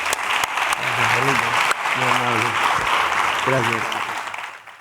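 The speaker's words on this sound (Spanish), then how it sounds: "hoy lo acabamos con un aplauso más que merecido" A live audience at the end of a podcast recorded on stage at BIME gives a full, steady round of applause, loud and sustained, while a voice speaks over it.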